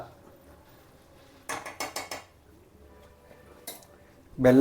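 A spoon stirring tomato chutney in a metal pan gives a short burst of four or five quick scraping clinks, then a brief single scrape, separated by near silence, and a louder knock right at the end.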